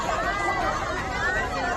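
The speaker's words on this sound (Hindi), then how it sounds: "जरा इनका हो हल्ला भी एक बार सुन ही लीजिए" A village crowd in uproar around a police jeep, many voices clamoring and shouting at once in a dense, continuous babble close by.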